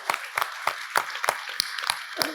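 Sparse applause from a small audience at the Ray of Hope charity event: a handful of claps in a loose, uneven rhythm, close-sounding and fairly quiet, with no talking.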